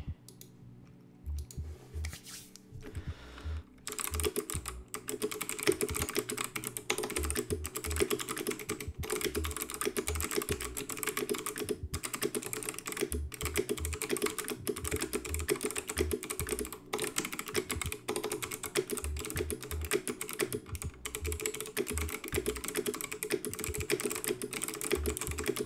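Custom mechanical keyboard with clicky switches typed on steadily and continuously, dense crisp clicks in a fast, even rhythm, close and fairly loud, with no talking.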